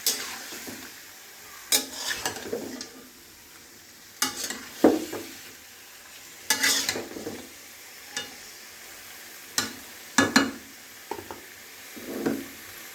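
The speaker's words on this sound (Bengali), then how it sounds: "এবার ভালো করে নেড়ে চেড়ে ঢেকে দিব ঢাকনা দিয়ে।" Chicken pieces being stirred in a pot for biryani, with scraping clatters in irregular bursts every second or two over a faint sizzle, close by with no talking.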